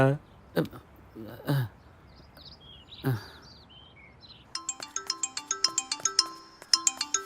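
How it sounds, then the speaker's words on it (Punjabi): A few spoken words at first, then a bright electronic phone ringtone starts, repeating its quick melodic beeps loudly and steadily. "ਆ ਗਿਆ ਭੋਲੇ ਦਾ ਫੋਨ"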